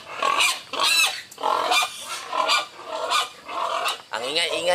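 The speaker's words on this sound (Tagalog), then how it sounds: "Ang ingay-ingay ng mga baboy." Pigs on a mountain farm, among them many piglets, squeal noisily in repeated loud, harsh bursts of about half a second each, close by and with short gaps between them.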